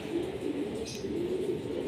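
Racing pigeons resting after a two-lap derby coo softly and steadily, a low continuous murmur of several birds close by with no talk over it.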